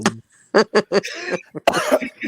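Several sharp coughs in quick succession, close and loud, followed by a raspy throat-clearing burst and a few more coughs.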